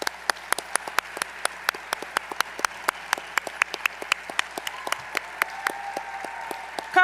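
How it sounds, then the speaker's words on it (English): Sparse applause at a company summit, a small number of distinct, separated claps ringing out at an uneven, fairly quick rhythm in a quiet room, with a faint voice briefly rising near the end. "So let's give them a big round of applause."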